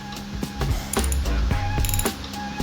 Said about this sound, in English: Then we'll switch to the 14mm socket.